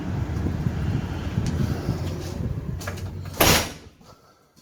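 Door at a hotel swings open with a brief rush of air, then ends in a sharp, loud bang as it shuts, followed by quiet.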